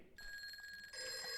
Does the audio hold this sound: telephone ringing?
yes